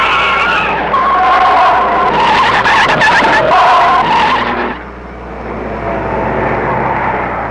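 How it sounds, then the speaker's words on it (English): Vintage Grand Prix race cars from the 1930s, including rear-engined machines, roar off together through the streets of Monaco, loud engines howling with tire squeal, building to a peak before the sound drops and fades as the pack pulls away. "Caracciola, Von Brachic and Rosemeyer go off together at Monaco"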